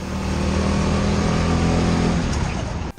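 A go-kart engine at the H-Karts circuit buzzes loudly and close as it drives a lap, a sustained revving drone that holds steady and then cuts off sharply near the end.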